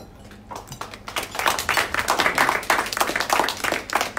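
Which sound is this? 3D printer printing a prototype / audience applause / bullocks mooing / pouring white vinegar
audience applause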